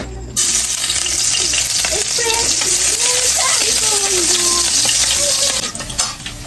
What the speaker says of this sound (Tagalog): Ilalagay ko na po itong sibuyas.